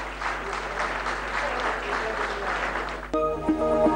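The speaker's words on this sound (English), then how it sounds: "can we have a round of applause," An audience at a women's empowerment conference session applauds in a steady, moderately loud round that cuts off abruptly near the end, where a different broadcast sound takes over.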